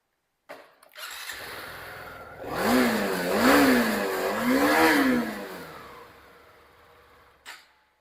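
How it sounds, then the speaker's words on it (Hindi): TVS Apache RTX 300 motorcycle engine cranking and catching, then idling and blipped through three rising revs before settling and cutting off, heard close with no talk. "सर्विस के बाद एक बार मैं आपको इंजन का साउंड सुनाता हूँ।"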